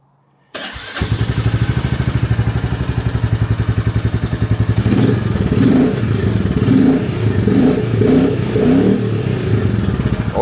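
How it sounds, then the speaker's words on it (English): Royal Enfield Classic 350 motorcycle fitted with a performance upgrade starts up after a brief silence, then idles with a steady close thump before a series of throttle blips and revs rise and fall near the end. "let's try to restart the motorcycle here and hear if it sounds different"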